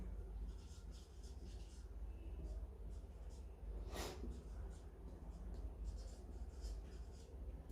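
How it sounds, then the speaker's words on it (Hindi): Chalk or marker writing on a classroom board during a chemistry lesson, with soft scratchy strokes in short bursts and one sharper scrape midway, over a low room hum. "चलो एक बार इसको CWO लिख देता हूँ।"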